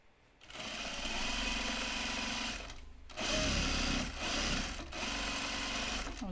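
A sewing machine stitches through a jeans waistband with shape-flex interfacing in two long steady runs of motor whir, a brief pause between them, close and loud with no talking.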